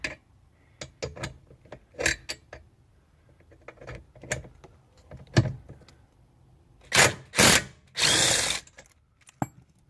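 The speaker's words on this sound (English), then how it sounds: "So we already have it connected to our gun right here. We're just gonna go ahead and remove it." A power tool gun fitted with a T50 bit works a bolt out of the dashboard of a 1999–2002 Infiniti G20, with close clicks and handling knocks, then three loud whirring bursts from the tool near the end.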